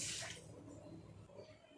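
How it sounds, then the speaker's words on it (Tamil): Water splashes into a pan of half a cup of sugar for a syrup, a short pouring rush that is loudest at the start and then eases to a soft trickle, close and alone. "அது கூடவே சர்க்கரை மூழ்கிற அளவுக்கு தண்ணி சேர்த்துடலாம்"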